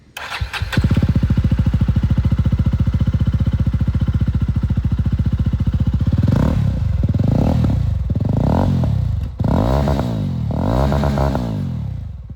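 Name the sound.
motorcycle dual exhaust revving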